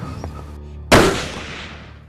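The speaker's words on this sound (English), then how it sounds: "There comes the shot right there." Single loud rifle shot fired outdoors while hunting, a sharp crack followed by a long fading rumble of echo.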